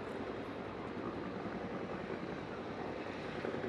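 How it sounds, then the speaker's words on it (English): Cobra and Huey military helicopters flying over a landing zone at an air demonstration, heard as a steady broadband rotor and engine roar that stays constant and fairly distant, with no talk. "the Cobra and Huey are still scanning the zone"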